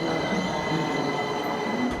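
A Washington Metro train on the Blue Line running along its rails: a loud, continuous rumble close by with steady wheel noise and a thin squealing tone, with no voices.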